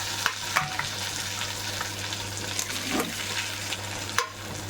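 Cumin, asafoetida, sesame seeds and curry leaves frying in hot oil give a dense, steady sizzle, close and continuous, broken by a few sharp crackles and pops.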